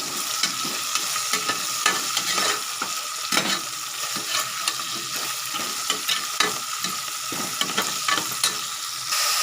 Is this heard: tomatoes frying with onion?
yes